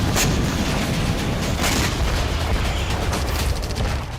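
A heavy explosion from a helicopter attack on an ammunition store near the front line in Robotyne, Zaporizhzhia, gives a sustained rumbling blast with crackling bursts, loud and dense throughout.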